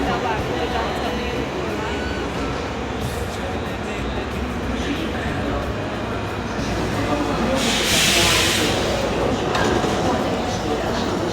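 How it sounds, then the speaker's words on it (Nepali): Metro train at a station, a loud continuous rumble and hiss of the train with a brief brighter burst near the end, voices faintly present under it. "फेरि अर्को मेट्रो आयो गाइस।"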